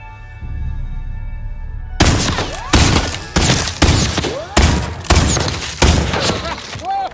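Loud volley of rifle gunfire in a western film trailer, with several sharp bursts of shots fired in quick succession after a quiet stretch with low music, echoing and crackling one after another.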